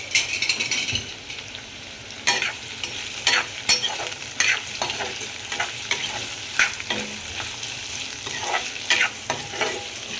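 Sliced onions for a vegetable dish fry in a pan while being stirred, a continuous close sizzle punctuated by frequent sharp clinks and scrapes of a spatula against the metal, with no one speaking.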